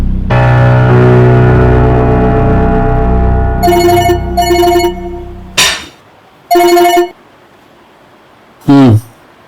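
A telephone rings indoors in a Pakistani TV drama scene, sounding as several short, loud electronic ring bursts after a sustained musical tone. The rings are spaced apart with quiet gaps between them.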